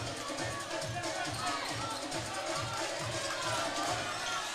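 Basketball arena crowd stirs and murmurs after a two-handed dunk, a broad steady roar of noise with faint bouncing and movement underneath, heard from within the stands.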